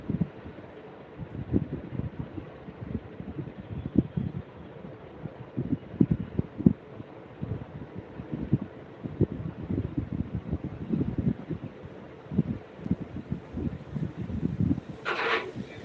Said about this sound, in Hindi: यहाँ जो है बहुत तेज आंधी आई है दिल्ली में अभी